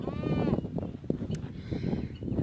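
A goat gives a single wavering bleat at the start, close and fairly clear, followed by rustling and shuffling farm noises.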